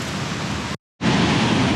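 Rushing creek water churning down a ravine, a dense, loud, steady roar that cuts out for a split second and resumes, with no voices.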